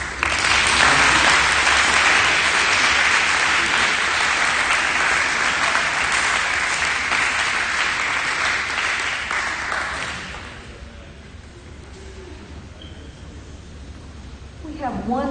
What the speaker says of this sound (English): Please give a round of applause for all new inductees.